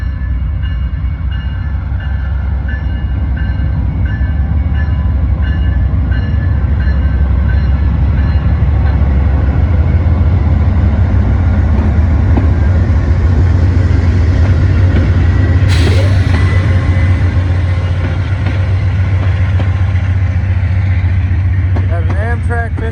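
An Amtrak passenger train led by a 50th anniversary heritage locomotive rolls out of the Galesburg, Illinois station, a loud, steady low rumble of diesel engine and rolling cars close by with a sharp brief hiss near the end.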